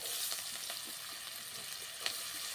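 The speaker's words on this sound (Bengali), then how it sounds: "পেঁয়াজ লঙ্কা কালো জিরেটা ভালো করে ভেজে নিয়েছি" Chopped onion, green chili and black cumin frying in fish oil, a bright continuous sizzle with faint crackles and a small scrape of stirring near the end, heard close up.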